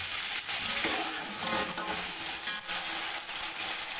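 Onions frying in oil in a pot for mutton yakhni pulao, a steady dense sizzle with faint stirring scrapes throughout, close and alone without talk.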